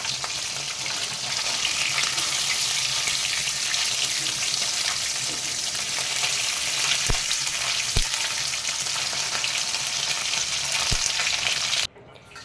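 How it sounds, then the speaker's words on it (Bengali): Mourola fish fries in hot oil with a loud, even, close-up crackling sizzle, broken by a few sharp knocks before it stops abruptly at the end. "এখানে আমার মাছ ভাজা কমপ্লিট"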